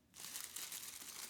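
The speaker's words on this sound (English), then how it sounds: "Let's open the plastic bag up." A clear plastic bag around a boxed automatic watch winder is handled, giving a close, continuous crinkling that starts after a brief quiet moment and carries on without speech.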